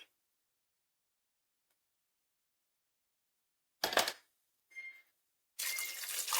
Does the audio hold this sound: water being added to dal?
yes